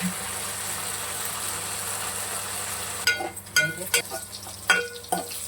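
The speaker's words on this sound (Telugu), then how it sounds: "ఇది కొంచెం పచ్చి వాసన పోయేంత వరకు అయితే మనం నూనెలో ఫ్రై కావాలి" Leaves frying in oil for a vegetable chutney hiss steadily, then about halfway through loud clattering stirring strokes and spatula knocks break in close by.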